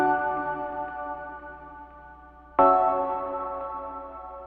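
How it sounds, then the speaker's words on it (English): A short, bright, high-pitched plucked bell synth tone rings out and decays, then a second pluck strikes sharply and fades again, two clean notes with no voices. "we kind of have this like plucky bell high pitch type thing."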